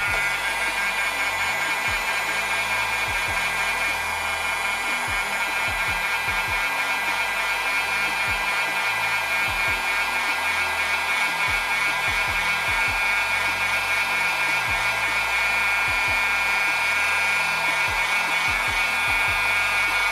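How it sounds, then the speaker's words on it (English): A heat gun set to 150 degrees Celsius blows continuously while warming a Xiaomi Redmi Note 12S phone screen, a loud, steady airy roar held close throughout with a brief voice over it. "I will warm it up here with the heat gun a little bit"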